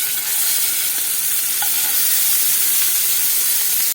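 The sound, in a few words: burger patties frying in a hot pan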